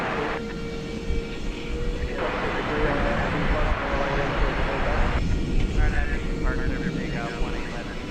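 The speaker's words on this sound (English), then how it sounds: "So here is Flight 753 going to Chicago Rockford International Airport" An airliner, Flight 753 bound for Chicago Rockford, takes off at night from DFW Airport, a loud, steady engine roar that holds across the clip with some speech-like sound over it.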